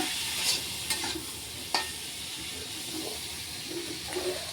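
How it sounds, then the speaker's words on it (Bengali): Food sizzling in a pan while being stir-fried with salt, a constant close hiss broken by a few sharp scrapes of the spatula. "তো দেখো আমি এই যে লবণটা দিয়ে দিলাম, এখন ভাজা করছি।"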